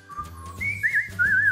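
A person whistles a short melodic phrase, a few rising and wavering notes, near and moderately loud over a faint low background hum.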